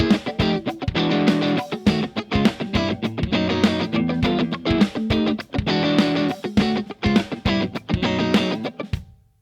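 An electric guitar through a combo amp, miked in a studio room, plays choppy distorted chords and riffs with short rhythmic stops, loud and close with no talking.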